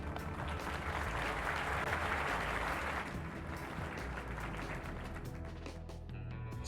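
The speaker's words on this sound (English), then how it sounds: "An applause for Fog." A crowd applause sound effect plays during a Microsoft Flight Simulator stream, a steady wash of clapping for several seconds that thins toward the end.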